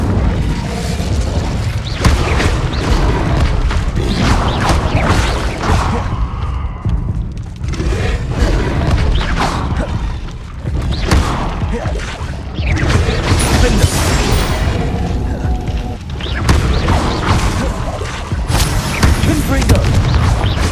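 The Incendio fire spell in Hogwarts Legacy is cast over and over, each cast a loud booming burst of flame blast with crashes and rumbles. The bursts run nearly nonstop with short lulls, and a voice speaks at times.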